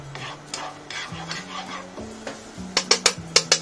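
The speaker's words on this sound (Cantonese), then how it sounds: "油熱咗之後就落晒所有蒜粒" Garlic cloves dropped into hot oil for a pesto pasta, giving a soft sizzle with a few clinks and scrapes of a utensil against the pan, then a quick run of sharp taps near the end, close and brief.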